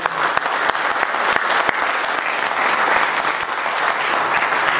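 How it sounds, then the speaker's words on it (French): Loud, dense applause from an audience at a political support meeting for Libyan Amazighs, a continuous close clapping with a few sharper individual claps standing out. "je vous demande d'accueillir et d'applaudir très fort M. Magdi Agbouhada"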